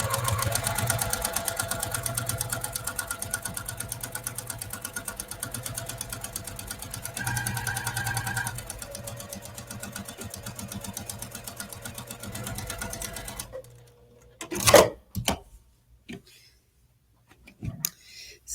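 Sewing machine quilting fabric for a cozy bowl, a fast steady mechanical hum running close for about thirteen seconds before stopping, followed by a few faint handling knocks.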